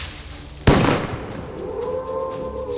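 A single sharp gunshot cracks out loud and close, followed by a long echoing decay and a faint ringing tail, with no voices.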